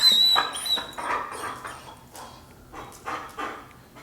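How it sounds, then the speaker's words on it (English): A dog whines faintly in the background during an obedience training session, with thin, high intermittent cries that come and go over a low, noisy room ambience. "I think there's a dog whining or something."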